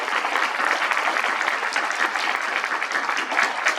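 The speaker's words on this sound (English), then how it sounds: "let's give them all a round of applause." A reunion audience of classmates breaks into sustained, even applause, many hands clapping densely and loudly for the full few seconds with no talking over it.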